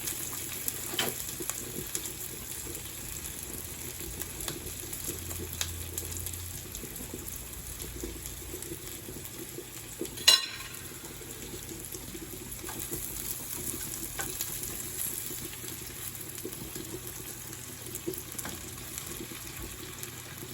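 Butter and vegetables fry in a hot pan with a steady, close sizzling hiss throughout, broken once near the middle by a sharp clink.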